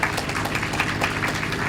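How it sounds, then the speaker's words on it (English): Dense, steady applause from schoolchildren clapping for their families at a middle school moving-up ceremony, a continuous wash of many hands throughout. "let's offer up one more round of applause for our families out there"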